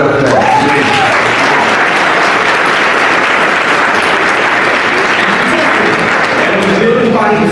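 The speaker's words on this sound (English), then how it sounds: "clap it up for that" An audience at a live talk event in Chicago applauds loudly and steadily for several seconds, a dense, continuous wash of clapping that fills the room.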